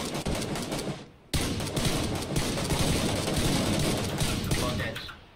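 Rapid gunfire crackles almost nonstop during a video game shootout, close and loud, with a brief gap near the start.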